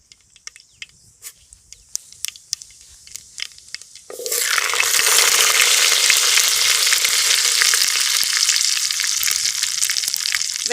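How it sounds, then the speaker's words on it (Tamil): Mustard seeds and fennel hit hot oil in a pan for a Tamil vegetarian kuzhambu, faint clicks giving way to a sudden loud, steady sizzle that crackles on continuously afterward. "ஆயில் நல்லா சூடாயிடுச்சுங்க. கடுகு சேர்த்திக்கலாம்."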